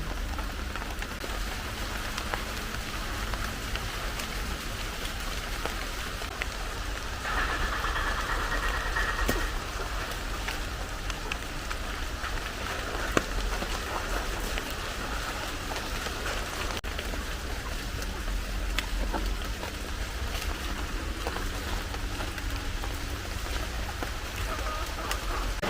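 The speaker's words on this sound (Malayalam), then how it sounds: "മഴ വരുന്നുള്ളൂ" Steady rain pours down continuously, a dense hiss of drops on surfaces that stays even throughout, with a faint low rumble underneath.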